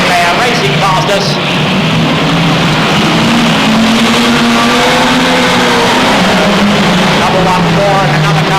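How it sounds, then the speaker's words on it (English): 1992 F1 stock cars roaring past at a race meeting, engines droning and shifting in pitch as the leading pair passes, loud and continuous under a commentator's voice. "There we are, the leading pair, racing past us."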